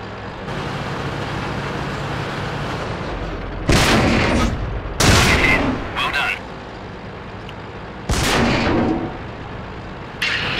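Tank guns fire in a World of Tanks battle as four heavy booming shots with short rumbling tails, spaced several seconds apart over a low steady engine drone, with a voice talking at times.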